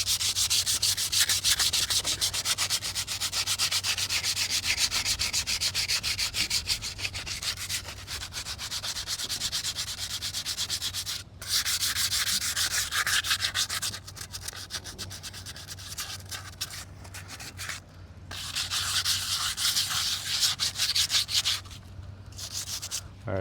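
Hand sanding barnacle residue off a two-stroke Mercury 15 hp outboard motor with sandpaper, a close, continuous scratchy rasp in long back-and-forth strokes with a few short pauses.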